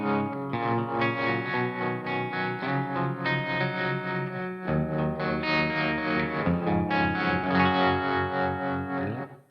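An electric guitar plays sustained, heavily processed chords through a tremolo effect placed before the amp, with a pulsing, wavering quality and some distortion, filling the space continuously before cutting off at the end.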